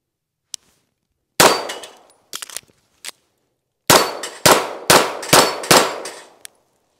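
Wilson Combat EDC X9 pistol shots ringing off steel plates outdoors: a single sharp shot with a bright clang, a pause with reload clicks, then five rapid evenly spaced shots, each with a ringing metallic impact.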